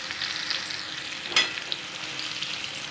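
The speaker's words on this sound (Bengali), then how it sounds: "লম্বা লম্বা আলুগুলোকে ভালো করে ফ্রাই করে নিয়ে আবার একটা পাত্রে রেখে দেবো" Long-cut potato strips fry in a pan with a steady close sizzle and crackle. One brief stir or clink breaks in about halfway through, and nobody speaks.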